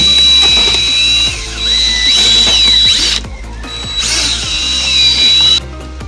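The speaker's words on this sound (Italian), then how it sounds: "aiutandoci anche con un trapano." A power drill whines loudly and continuously up close, mixing a thick carp bait paste of flours, briefly easing off before revving up again.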